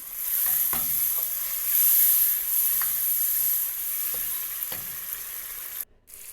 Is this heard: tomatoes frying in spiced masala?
yes